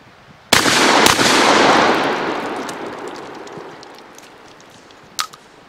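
A 12-gauge Tedna coach gun fires slugs at a target about seven yards off: one loud, close blast followed almost at once by a second, with a long decaying ring-out and a small sharp click near the end.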